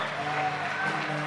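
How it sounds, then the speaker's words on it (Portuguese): A church congregation claps together in a dense, continuous wash of applause, with a sustained musical drone and some voices mixed beneath. "dê um aplauso ao Senhor"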